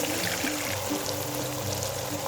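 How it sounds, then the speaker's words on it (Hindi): Water pours steadily into a pan of chicken jalfrezi curry, a continuous close splashing stream running the whole time without a break. "फिर मैं इसमें ऐड करूँगी थोड़ा सा पानी"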